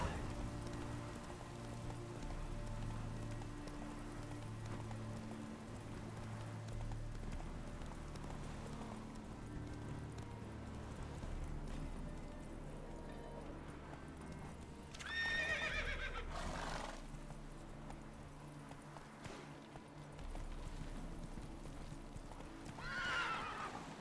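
Horse in The Witcher 3 moving at pace with rhythmic hoof clip-clop under rain and ambient game music, with a couple of neighs or whinnies partway through and near the end.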